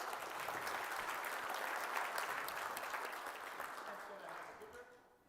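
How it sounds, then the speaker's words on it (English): Audience applause at a cybersecurity conference, a dense steady clapping that stays loud for several seconds, then thins and fades toward the end. "Can we give him one more round of applause?"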